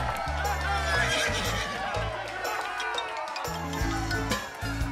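A cartoon horse crossing a water fountain lets out repeated whinnies alongside clip-clopping hooves, all over bouncy background music.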